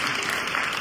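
A crowd claps in a brief, dense burst of applause, loud and close, with a steady rush of many hands and no speech over it.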